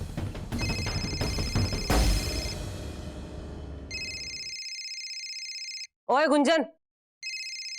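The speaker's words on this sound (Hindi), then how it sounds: "फोन की घंटी बज रही है" An electronic telephone rings in repeated trilling bursts with pauses between them, after clattering household noise and a woman calling out.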